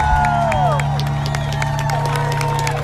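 An audience's applause and cheering at a memorial tribute event, a continuous bed of clapping with scattered whoops under a steady tonal hum, people talking amid the crowd.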